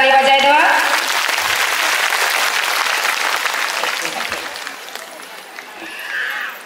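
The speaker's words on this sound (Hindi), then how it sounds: "हमारे विशेष स्वामी लगी रौरे बा जोरदार ताली बजाई देवा।" An audience at a Women's Day ceremony applauds a special guest, a full burst of clapping that starts after a short spoken phrase, stays strong, then gradually thins out.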